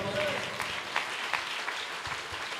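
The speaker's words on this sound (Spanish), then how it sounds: "Démosle un aplauso al Señor" Applause from a congregation at a church convention service in Aruba, a steady, dense patter of clapping filling the whole stretch at moderate loudness.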